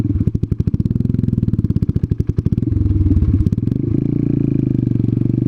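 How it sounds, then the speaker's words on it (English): A scooter engine idles close by with its idle turned down, a rapid, steady putter of regular firing pulses that shifts to a smoother, deeper drone partway through, with no talk over it. "I had to turn the idle down from the last video."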